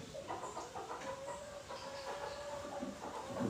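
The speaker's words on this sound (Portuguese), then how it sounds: "É os galos aqui que vem" Roosters and chickens clucking and crowing outdoors, faint and somewhat distant, with a steady murmur of background noise and no talk.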